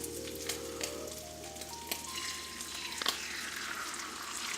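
Chorizo and egg frying together in a pan, a steady close sizzle and crackle running throughout, with no talking over it.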